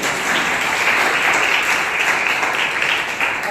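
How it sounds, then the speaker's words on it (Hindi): Crowd at a talk giving a loud, steady burst of applause to welcome a boy, dense clapping throughout. "इस बेटे के लिए जोरदार तालियों से स्वागत है"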